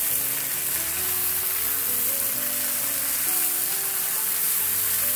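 Prawns fry with onions in oil for a Tamil-style prawn fry, giving a steady, close sizzle throughout, with tonal background music underneath.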